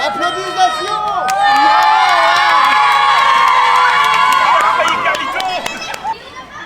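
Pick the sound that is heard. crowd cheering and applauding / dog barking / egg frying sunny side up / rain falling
crowd cheering and applauding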